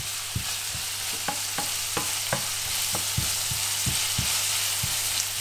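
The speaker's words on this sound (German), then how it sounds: "Dann tue ich jetzt als nächstes die Zwiebeln dazu." Red onions fry in a pan under a continuous hiss of hot oil, while a utensil knocks and scrapes against the pan in a fairly regular rhythm of sharp taps, close and clear.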